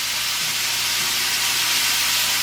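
Shrimp frying in a one-pot meal, a steady close hiss and sizzle filling the whole moment with no voices.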